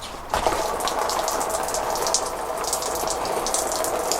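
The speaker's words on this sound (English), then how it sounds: "You have to put a little hole in it and let it drain." Water gushing and draining out through a small hole punched in a van's wall, a steady continuous flow that starts abruptly and keeps running loud and close with no talk.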